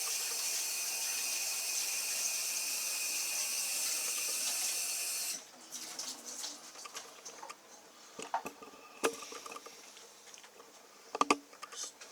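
Kitchen tap water runs in a steady loud rush while hands are washed, then cuts off abruptly midway, leaving scattered drips, clinks and small handling noises.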